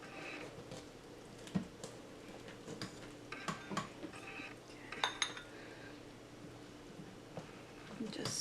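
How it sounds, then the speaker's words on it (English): Chicken pot pie scooped from the middle of an air fryer lid pot: faint clinks and scrapes of a utensil against the pot come and go, with a few sharper taps, over a quiet background. "I'm gonna go ahead and just take a scoop out here from the middle."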